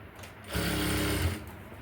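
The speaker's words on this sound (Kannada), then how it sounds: "ಒಂದು ಸಿಂಗಲ್ ಟೆನ್ಷನ್ ಗ್ಯಾಪ್ ಏನಿದೆಯಲ್ವ ಆ ಗ್ಯಾಪಲ್ಲಿ ನಾನು ಹೊಲಿಗೆಯನ್ನು ಹಾಕ್ಕೊತಾ ಬರ್ತಾ ಇದ್ದೀನಿ" A sewing machine stitching cloth into thread piping for a blouse: one close, steady mechanical whir lasting about a second, rising from and falling back to a quiet background.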